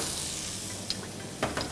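Chopped onions fry in olive oil, giving a steady, close hiss and sizzle that runs throughout, with a couple of brief louder crackles near the end.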